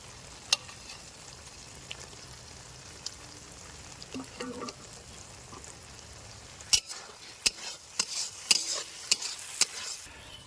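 Spice masala with sliced tomatoes fries in a pan for a Bengali cauliflower roast, a low continuous sizzle broken by sharp spatula scrapes and taps that grow louder and more frequent toward the end, with no talking.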